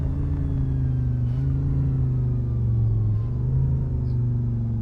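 An Audi R8 GT4 race car in Assetto Corsa powers out of a corner at Vallelunga, its engine a steady loud rumbling drone with rising harmonics as it pulls through the gears, no voices over it.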